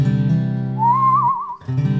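A single whistled melody line rises and wavers for under a second over a loud, sustained band of backing instruments that drops out briefly and returns.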